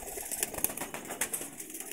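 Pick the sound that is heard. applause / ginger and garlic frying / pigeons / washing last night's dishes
pigeons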